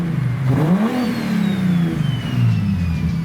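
A single-turbo BMW M3 engine revs up sharply and falls back, with a second smaller blip and a faint turbo whine trailing above the exhaust roar, loud and close.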